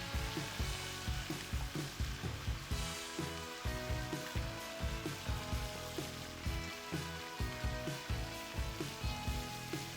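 Ingredients with pandan leaves being stirred as they fry in a pan for an Acehnese dish, a continuous sizzle under a rhythmic series of utensil scrapes and taps, no talking.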